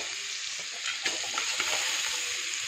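Cooked dal tipped into a pan with grated coconut for papaya thoran, sizzling with a bright, steady hiss, and a burst of stirring and scraping partway through.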